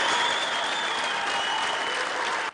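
Tunisian parliamentarians applaud after adopting the constitution, a dense, even burst of clapping filling the chamber, with some cheering mixed in, cutting off abruptly at the end.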